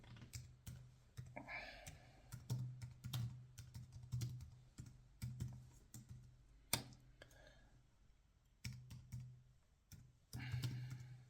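Keys clatter on a computer keyboard in uneven bursts of clicks with short pauses, close and fairly quiet, steady background hum underneath.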